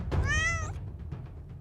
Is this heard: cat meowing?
yes